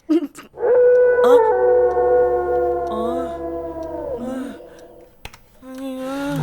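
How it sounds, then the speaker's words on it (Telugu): A dog howls at night in a horror film scene, with a long, loud, wavering howl that holds for several seconds before dropping, then a second rising howl begins. "అన్నయ్య, కుక్క అరుస్తుంది అన్నయ్య."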